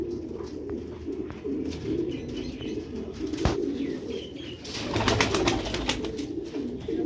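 A Sialkoti black-necked quail pigeon, a female, coos in repeated low rolling phrases close by, with a sharp click and some flapping or shuffling around it, no talk present.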